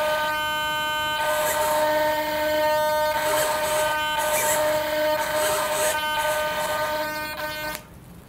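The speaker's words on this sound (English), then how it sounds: "And I'm gonna just drive the servo." An RC servo drives the flap and aileron on a glider wing. It gives a steady, close, tonal whine that holds for about seven seconds in short bursts and cuts off near the end, with no talking.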